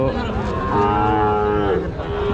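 Cattle moo loudly and close by at the Rajshahi City bull market, with long, drawn-out lowing calls over a busy background murmur.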